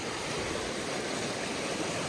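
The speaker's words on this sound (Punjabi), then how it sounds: "ਕਿੰਨੀ ਸਪੀਡ ਨਾਲ ਆਉਣ ਦੇ ਆ ਪਾਣੀ" Fast-flowing floodwater released from Pong Dam rushes across fields beside the Tanda–Miani road, a dense, unbroken roar of churning water at steady volume, close and loud with no voices.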